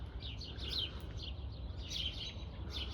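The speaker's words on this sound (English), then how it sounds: "You can hear the birds." Birds chirp outdoors in the dark before dawn in early spring, with repeated high, bright calls in scattered bursts heard from a moderate distance over a steady low rumble of background noise.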